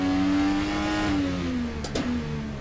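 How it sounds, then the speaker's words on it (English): In rFactor 2 at Long Beach, a Dallara IR18 IndyCar engine drones at sustained high revs, then its pitch sags gently as the car lifts, with a brief pair of clicks near the end. "I am driving the Dallara"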